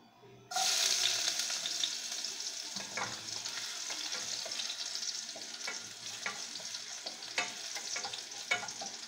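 Garlic hits a hot pan for ginisang patola and bursts into a loud, sudden sizzle that settles into a steady crackling hiss, with light scraping and stirring clicks throughout.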